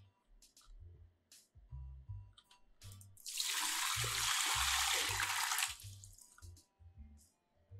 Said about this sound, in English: Pour the water into the TV on its back.